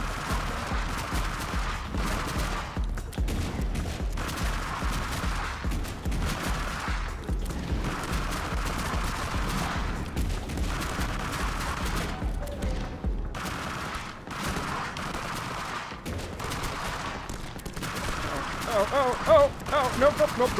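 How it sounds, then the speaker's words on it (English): Video game machine gun fire, rapid bursts of shots repeating over background game sound effects and music, fairly loud and continuing for most of the stretch, with a player talking over parts of it. "Alrighty, machine gun."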